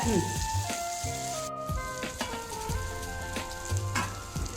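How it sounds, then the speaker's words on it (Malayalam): Fish frying in a pan for lunch, a steady close crackling sizzle with light spattering pops and occasional stirring scrapes, fairly loud throughout. "അപ്പൊ നമ്മുടെ മീൻ ഫ്രൈ റെഡിയായി"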